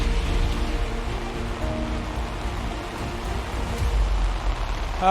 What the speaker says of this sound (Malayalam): ഇപ്പോഴും കാണാം അർജുൻ നിൽക്കുന്നിടത്തും ശക്തമായ മഴയുണ്ടല്ലോ